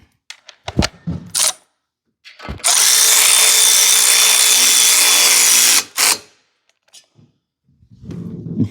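A socket wrench or power driver snugs down a custom intake manifold on a Fargo truck, a loud close whirring burst lasting about three seconds, framed by scattered clicks and clanks of tool handling.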